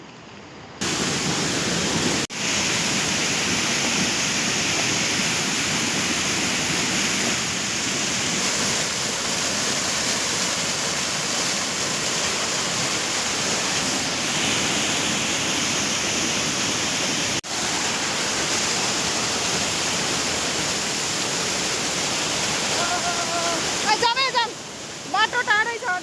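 A waterfall at Mailung, Nepal, beside a rocky stream, gives a loud, steady, broadband roar of falling water that runs unbroken throughout, with a brief burst of high chirping near the end.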